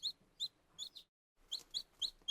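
Small bird chirping in short bright bursts, about eight quick calls with a brief pause in the middle, close and clear with no voices.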